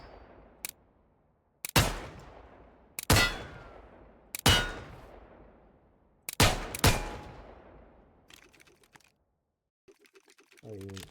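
Single heavy gunshots from the TaCZ gun mod in Minecraft, five loud isolated reports spaced a second or two apart, each with a ringing decay, followed by softer mechanical clicks and clinks.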